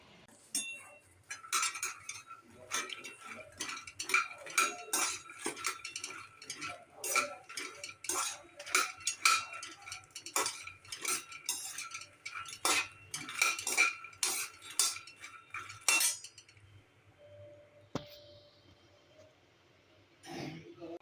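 Fox nuts (makhana) roasting and being stirred in a pan: a long run of close, rhythmic scraping and clinking strokes that stops near the end, leaving a quieter background.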